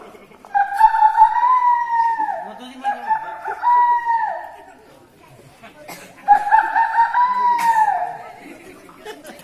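A voice imitates a rooster crowing, performing the call three times in long rising-and-falling phrases, loud and close, with short gaps between them.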